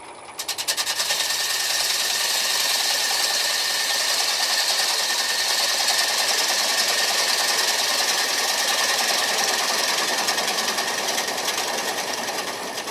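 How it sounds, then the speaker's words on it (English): A small bowl gouge takes light cuts from wood on a lathe while shaping a tenon into a concave foot, a continuous close whirring and rasping drone that holds steady throughout. "I'm doing what I call taking very small bites of wood with a very small"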